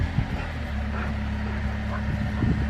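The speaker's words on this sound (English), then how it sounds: "I hear the tractor going." A steady low engine drone runs throughout, like a tractor idling nearby, with a dog's yips and whimpers breaking in at moments.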